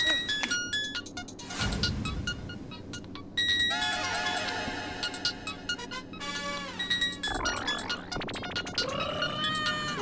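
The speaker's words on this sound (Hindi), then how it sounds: "फोन किसका बज रहा है?" A mobile phone rings with a loud, melodic ringtone, repeating electronic tones through most of the scene over voices talking in a comedy episode.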